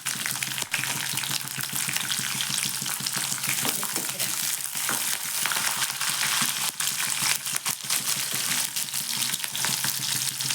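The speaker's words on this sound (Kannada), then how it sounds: "ಸೊ ಚೆನ್ನಾಗಿ ಫ್ರೈ ಮಾಡ್ಬೇಕು" Chana dal and green chilies fry in oil with a dense, continuous crackling sizzle and occasional sharper pops, loud and close for the full stretch, without speech.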